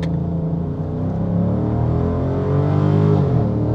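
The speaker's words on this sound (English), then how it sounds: "what a fantastic, lumpy V8. Absolutely love this engine." A Dodge Charger's lumpy V8 engine accelerating uphill, a loud, close, rumbling tone that climbs gradually in pitch and holds strong throughout, with no talking.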